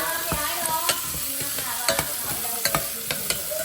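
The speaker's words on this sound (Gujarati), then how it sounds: "મેં લીલા મરચાં અને કેપ્સિકમ મરચાં અને ખડા મસાલાથી મસ્ત વઘાર કર્યો છે" Green chillies, capsicum and whole spices temper in hot oil, giving a continuous crackling sizzle broken by sharp spatula scrapes and clicks against the pan at irregular intervals.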